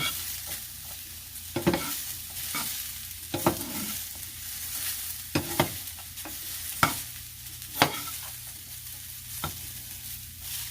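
Broccoli sizzles steadily in a pan as a Korean vegetable stir-fry cooks, with sharp clacks of stirring breaking through every second or so.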